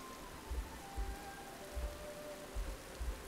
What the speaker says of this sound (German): Es regnet wieder.